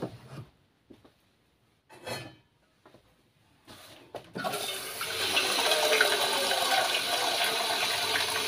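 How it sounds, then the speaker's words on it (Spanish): A liter of water is poured into a homemade multipurpose gel cleaner mix: a few faint handling sounds first, then a steady, fairly loud rushing pour that begins halfway through and keeps going to the end. "Le voy a agregar un litro de agua."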